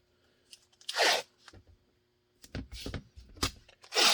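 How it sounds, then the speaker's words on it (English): Tape tears off in short, sharp rips and crinkles as it is wrapped around a Safariland holster fork for a SIG P320, in close, intermittent bursts with quiet gaps between them. "I'm going to tape this up first"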